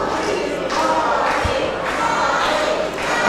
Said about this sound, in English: This crowd wants to see Javier Bernal win this title